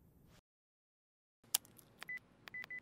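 Telephone keypad tones beep in a short sequence of separate presses, close and clear, after a moment of silence and a click.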